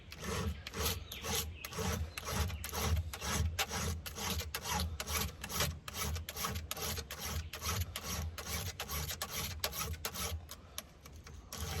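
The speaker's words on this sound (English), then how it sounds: "I file the rakers from the one side" Hand file rasping across chainsaw chain rakers on a McCulloch 7-10A, a steady run of rhythmic back-and-forth strokes, close and loud with no talking.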